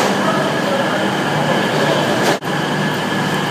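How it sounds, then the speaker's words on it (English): Steady loud rumble of a train or metro carriage while boarding, continuous rail noise with a brief dip partway through. "This is Mel getting on a train."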